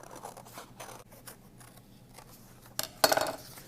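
Scissors cut out a paper shape with soft, close snips, followed near the end by a louder burst of crisp cutting and rustling paper. No one speaks.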